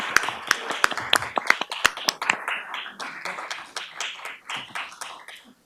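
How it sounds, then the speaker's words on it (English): A small group at a candidate forum in Los Altos Hills claps, sharp individual claps at first thinning into scattered, lighter applause over a few seconds. "let's give them all a round of applause"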